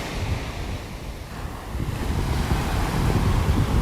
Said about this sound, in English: we still got some waves out here